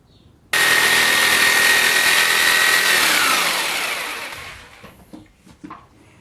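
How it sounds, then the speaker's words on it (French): A jigsaw cuts through wood for an under-stair cupboard, starting abruptly with a loud, steady buzzing whine that holds for several seconds, then winds down and fades into a few faint knocks. "Nous allons maintenant réaliser la coupe à l'aide d'une scie sauteuse."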